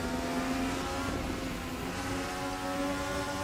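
A DTM race car engine in RaceRoom Racing Experience, heard from inside the car as a steady droning, revving tone, moderately loud and continuous, with no talk over it.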